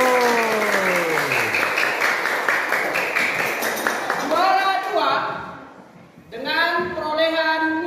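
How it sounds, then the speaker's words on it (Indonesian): An audience at a primary school quiz competition final claps steadily, while an announcer speaks loudly over the applause through a sound system. "Tepuk tangan dulu."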